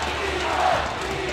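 Crowd noise from spectators at the M5 World Championship esports knockout stage, a steady dense roar of cheering and shouting throughout with a brief swell midway.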